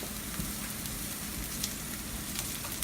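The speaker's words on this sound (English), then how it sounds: "now that my avocado oil has heated up, I'm adding the shallots, where I'm going to go ahead and saute the shallots" Shallots sauteing in hot avocado oil, a steady close sizzle with soft crackling pops throughout, no talking.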